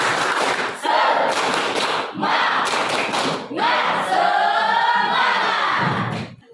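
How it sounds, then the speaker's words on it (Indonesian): A class of children claps and chants a spirit clap together in a loud, rhythmic burst, with thumping claps and shouted voices across several phrases. "kita tepuk semangat lagi, biar lebih semangat ya. Tepuk semangat."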